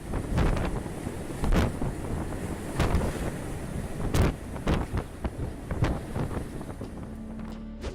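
Huge storm waves, around 40 feet high, pummel a ship at sea amid heavy wind, with repeated loud crashing surges over a constant roar of wind buffeting the microphone.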